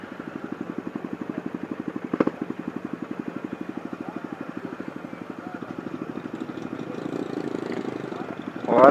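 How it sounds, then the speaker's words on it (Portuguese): A motorcycle engine running on old gasoline chugs in a steady rapid pulse, sputtering unevenly and faltering toward the end, heard from nearby in traffic with some talk around it. "Moto tá morrendo pra caramba, a gasolina velha"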